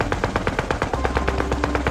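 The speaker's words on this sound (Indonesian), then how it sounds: "pasukan Soviet yang bertugas mengalihkan perhatian musuh mulai menembakkan senjata mesinnya" Soviet troops fire machine guns in a rapid, evenly spaced stream of loud, close shots, with no talk over them.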